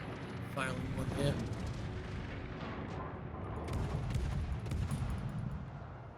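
Naval gunfire in World of Warships, a tier 3 battle, rumbles as continuous low booms and distant salvos under a steady wash of battle noise, with someone talking over it.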